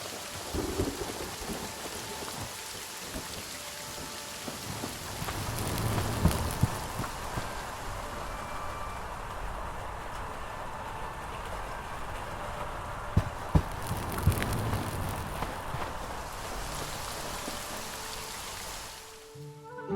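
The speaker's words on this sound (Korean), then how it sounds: "이 영상은 비가 오는 야외에서 음침한 탑으로 걸어 들어갈 때의 효과음 변화를 보여주는 영상이에요" Steady rain and rolling thunder outdoors in the game Hytale, a constant dense patter with low rumbles swelling in the middle before the sound fades out at the end.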